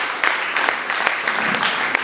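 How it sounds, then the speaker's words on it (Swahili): Brief round of applause from a church congregation at a Sunday service, many hands clapping in a busy, scattered patter with a few sharper accents, steady and close. "Ongeza makofi tena kwa Bwana Yesu"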